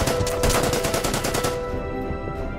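Gunfire from an infantry attack in the wartime strategy game Order of Battle: Pacific, heard as a loud, rapid rattling burst of shots lasting about a second and a half before trailing into a duller rumble.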